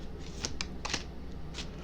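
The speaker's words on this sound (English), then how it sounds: "I shuffle these cards to Hades right after I read" Oracle cards being shuffled by hand, with soft crisp riffling flicks and a few sharp card snaps, close and quiet, with no talk.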